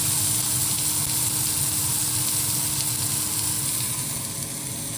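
Skewers of food sizzle loudly and continuously in a hot pan in a home kitchen, a dense, steady frying hiss with no talking.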